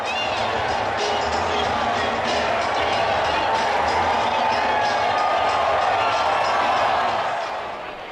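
More than 41,000 fans at Bulldog Stadium in Fresno roar in a steady, loud wash of cheering during a Fresno State Bulldogs football game, sustained throughout with no clear break.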